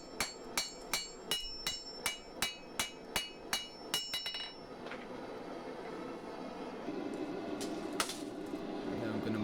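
A blacksmith hammers hot steel to set the heel of a knife blade's bevel for a sgian dubh, about a dozen sharp, ringing strikes in a steady rhythm, then a quieter stretch of workshop rustle.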